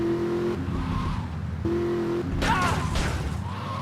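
A fast car roars through GTA 3 with a steady droning engine that shifts pitch as gears change, loud and close, with tire squeal near the end and a faint voice underneath.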